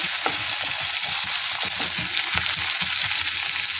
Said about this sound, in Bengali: এবারে দিয়ে দেব রসুন কোড়া আর দিয়ে দেব আদা কোড়া একটু নেড়ে নেব ভালো করে